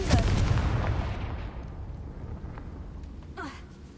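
A Confringo spell blast in the Hogwarts Legacy video game, one sharp explosive boom at the start that decays into a rumbling tail, with a faint second burst near the end.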